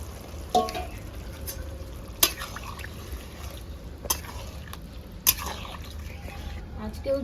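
Sizzling and frying in a pan of potato and cauliflower gravy for a catla fish curry, with water poured in; steady crackle punctuated by a few sharp clinks and splashes, under occasional background voices.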